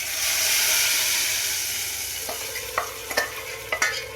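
Mustard seeds and cumin sizzle and spit in hot oil in a kadai, a steady loud frying hiss with sharp pops and crackles building near the end.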